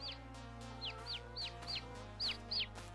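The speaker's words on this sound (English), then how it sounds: "We got little baby chicks now." Baby chicks in the farming game Farming Simulator 22 give bright, quick cheeps, about eight short peeps in an uneven rhythm over a steady low hum, close and clear, with no voices.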